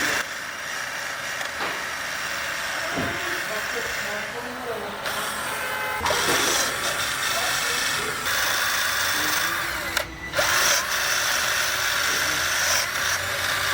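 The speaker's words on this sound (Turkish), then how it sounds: "Külbütör kapağını telliyoruz." A wire brush scrubs a Fiat Uno rocker cover clean of old gasket residue, a steady close, harsh scratching and rasping that runs continuously with brief pauses, while someone talks over it.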